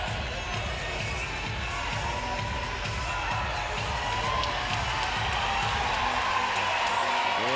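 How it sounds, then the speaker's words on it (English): Loud crowd cheering fills a gym at an NCAA Division III women's basketball game between Hope College and Christopher Newport, a steady roar of voices and whoops that holds for several seconds. "And a loud crowd behind them."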